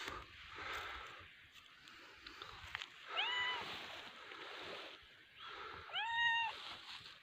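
A village cat gives two short, clear meows a few seconds apart, close by but fairly quiet, with soft background rustle and a person calling to it between the cries.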